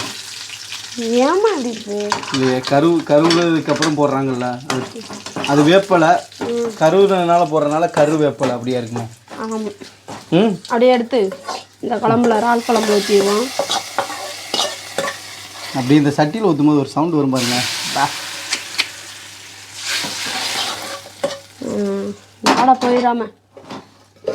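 Curry leaves and seeds fry in hot oil for a prawn curry, a steady sizzle with stirring and pan clatter heard under nearly constant conversation between two people.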